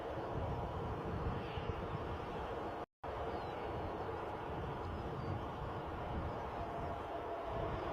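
An airplane departing Bristol Airport makes a faint, distant, steady roar of jet engines that briefly cuts out partway through, with no voices over it.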